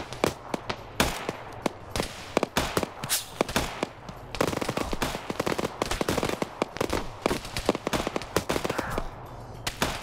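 Rapid bursts of video-game gunfire during a NATO versus Russian operation match, dense automatic shots and scattered single cracks, loud and nearly continuous.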